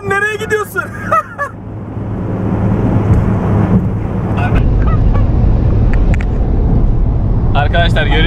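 A VW Golf 7 1.6 TDI with Stage 1 software runs at full throttle, its diesel drone building and holding steady from inside the car. People talk over it, and there is a honk near the start.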